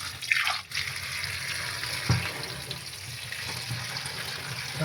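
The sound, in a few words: washing note greens under running tap water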